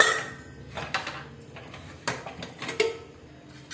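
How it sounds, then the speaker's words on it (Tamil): A stovetop pressure cooker holding yam and tamarind being opened, with a few sharp metallic clanks and clicks of the lid and pot, close by and without talk. "குக்கரை ஓப்பன் பண்ணிடலாம்"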